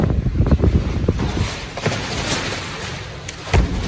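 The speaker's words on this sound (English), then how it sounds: "A little windy here." Strong wind during a high wind warning buffets around a 40x72 pole barn. It comes as a steady, rumbling outdoor roar, with a few dull thumps that are loudest at the start and end.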